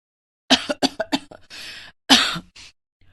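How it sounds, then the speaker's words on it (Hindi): A woman coughs close by, a burst of four quick harsh coughs, then a pause and one more heavy cough with a throaty tail, alone in silence. "वो खांस रही थी।"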